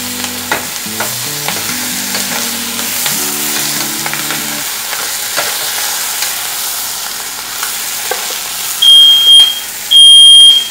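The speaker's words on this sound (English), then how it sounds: "That's a fire alarm." A smoke alarm gives two loud, shrill, high-pitched bursts over onions stirred and sizzling in a pan while cooking butternut squash soup, the frying and scraping steady and close before the alarm cuts in.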